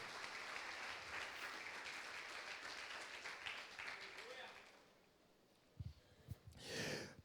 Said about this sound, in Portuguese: Dá uma salva de palmas para o Senhor Jesus aí